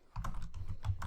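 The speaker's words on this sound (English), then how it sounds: "you typing?" Rapid clicking of keys on a computer keyboard, fairly close and steady for about a second, with no talking over it.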